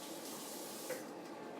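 A kitchen tap runs as something is washed under it, a faint, steady splashing water flow lasting briefly with no talk.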